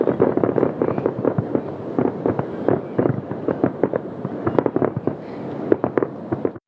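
A New Year's fireworks display over a riverside crowd produces a continuous barrage of loud bangs and crackles, with dense bursts packed close together and no pauses.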